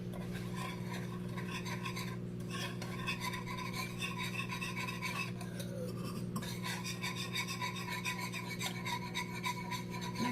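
A mini whisk scrapes and stirs honey garlic meatball sauce in a pan, a close, steady, rapid rasping that continues throughout over a constant low hum.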